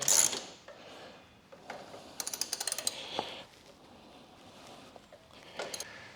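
A ratchet wrench tightens a bolt on the rear spring of a Ducati Desert X motorcycle, with a short burst of rapid clicks in the middle among scattered clanks and handling noises, close by.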